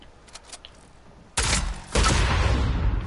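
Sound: gunfire hitting the player in the video game Fortnite

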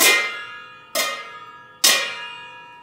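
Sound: pots and pans clanging

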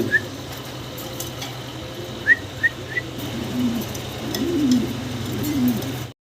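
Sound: pigeons (black checker Mundian fancy pigeons) cooing

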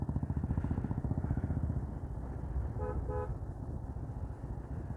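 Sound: KSRTC bus passing and honking

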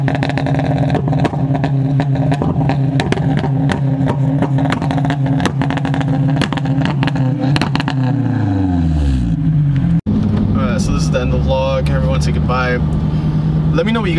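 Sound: Dodge Hellcat car engine revving

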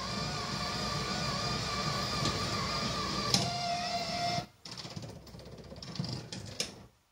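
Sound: bus destination roller blind moving

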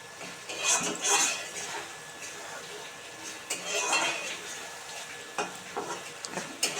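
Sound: sautéing tangra fish masala in oil

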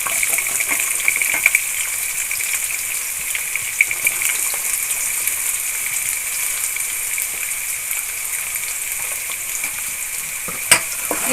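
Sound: onions frying in oil

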